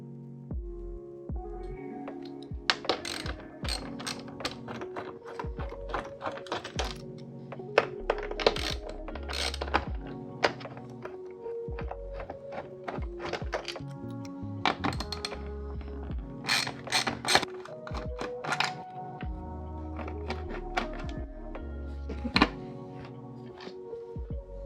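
Ratchet clicking steadily as 14mm bolts and 12mm nuts are removed from the seat rails of a Honda S2000 seat, with repeated bursts of rapid pawl ticks and occasional metallic clunks, close and clear with no talking.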